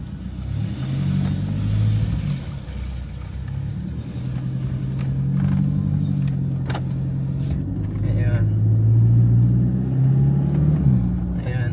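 A Thailand-built Toyota Hilux concept pickup with automatic transmission on a road test, its engine a steady mid-range hum rising and falling while someone talks over it from inside the cab.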